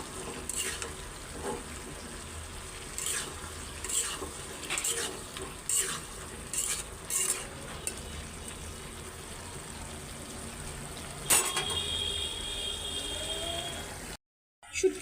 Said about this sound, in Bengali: তো শুটকিগুলি দিয়ে আর একটু ভালো করে কষাবো।